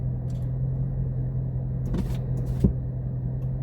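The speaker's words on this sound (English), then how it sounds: "the factory exhaust definitely sounds really good" Steady low rumble of a Dodge Charger 392's factory exhaust idling inside the car, even and continuous, with a couple of faint clicks near the end and no voices.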